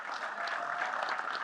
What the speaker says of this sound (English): So I want you guys to give another round of applause to these distinguished